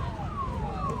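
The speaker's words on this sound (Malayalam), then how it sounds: "ഫോഴ്സിൻ്റെ ആംബുലൻസ് ആണ്." Ambulance siren at the Pushkar fair in Rajasthan, a wailing tone that sweeps and falls repeatedly, moderately near and sounding over steady traffic and crowd noise.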